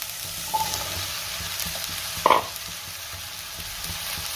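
Okra (bhindi) is tipped into a hot pan and stirred while cooking as a Maharashtrian bhendi bhaji, giving a steady close sizzle with a sharp clatter of spoon on pan near the middle and soft scraping throughout.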